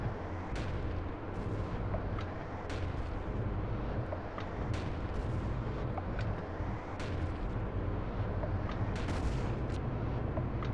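Cannon fire in the video game Kya: Dark Lineage comes as a rapid series of loud, booming blasts repeating every second or so over a dense, rumbling battle din, with no speech.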